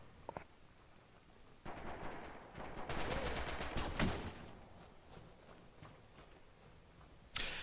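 Rapid bursts of PPSh submachine gun fire in a video game, a rattling volley in the middle followed by quieter shots, with an announcer commentating on a competitive match.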